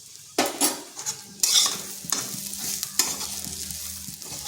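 Kundru frying with spices on low heat: a spatula scrapes and stirs through the pan in several loud strokes over a soft, steady sizzle, with no one talking.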